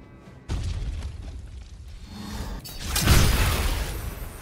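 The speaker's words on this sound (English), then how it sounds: "Those were bombs." Bombs explode in a fantasy video game battle: a sudden loud boom at the start, then a rumbling wash and a second heavier blast near the end, dense and close.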